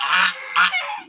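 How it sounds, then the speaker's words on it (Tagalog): Geese honk loudly and close by in a rural spot in Capiz province, a few harsh nasal calls in quick succession, with no talking. "Itong gansa na maingay."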